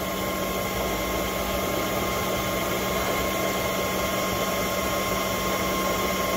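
A Harrison Alpha 400 CNC turning center runs a cut as a steady, unbroken mechanical whirr and hum with a constant whine, fairly loud and close throughout.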